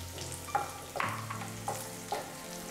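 Dried red chili, curry leaves and turmeric sizzle in hot oil for a sweet and sour poha chivda, a steady frying hiss with a few stirring scrapes.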